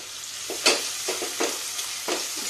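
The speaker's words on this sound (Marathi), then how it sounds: "आता कांदा छान आपण शिजवून घेऊया।" Chopped onion frying in a pan with cumin and asafoetida, a steady sizzle broken by several scraping stirs of a spoon, close and moderately loud, with no talk.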